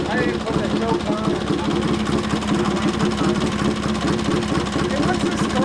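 A small engine, started without choke, idles with a rough, steady low chugging, close and continuous, while a person talks over it.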